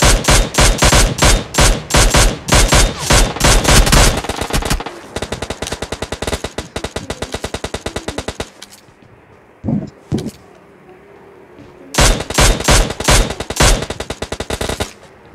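Machine gun fire in a multiplayer shooter scrimmage, loud rapid bursts of automatic shots in long strings, a pause with scattered quieter sounds, then another dense volley close by.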